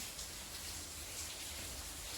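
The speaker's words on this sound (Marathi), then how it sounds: "तर अजून पाऊस थांबला नाही" Steady, faint rain hisses continuously, an even wash of falling drops with no voices and no change in intensity.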